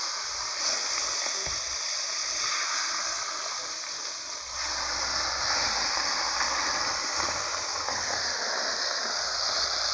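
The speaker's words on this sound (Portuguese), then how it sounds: "Tá fritando do outro lado, né," Tilapia fish frying in a pan with hot oil, a continuous crackling sizzle, close and fairly quiet, steady throughout with no talk.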